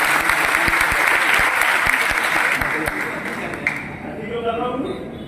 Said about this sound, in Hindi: ताली बजाइए उनकी पसंद